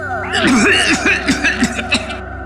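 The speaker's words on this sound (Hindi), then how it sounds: "जल्दी से पानी पी रहा था, खांसी आ गई" A few harsh, throaty coughs from someone who drank water too fast, in quick succession, close and fairly loud, trailing into short sputtering bursts.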